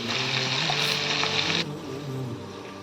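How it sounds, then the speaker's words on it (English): Prawns sizzle steadily in a hot pan for a Mangalorean-style ghee roast, a loud close hiss that eases off partway through. "While prawn gets fried"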